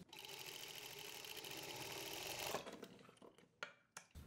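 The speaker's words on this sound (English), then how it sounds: "Now we'll be sewing all the way till the end and lock and stop." Sewing machine stitching a pants seam, a steady continuous whir for about two and a half seconds before it stops, followed by a few short clicks and thumps of handling.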